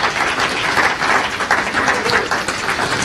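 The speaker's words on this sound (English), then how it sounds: "Give the Lord a hand clap of praise tonight" A church audience claps in praise, a dense, steady patter of many hands at close range lasting a few seconds with no voices over it.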